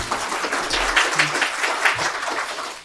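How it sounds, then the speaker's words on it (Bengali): An audience at an exam-preparation seminar applauds, with continuous, dense clapping heard close and fairly loud, and faint low murmurs underneath. "তাহলে মনে সুখে হাততালি দাও"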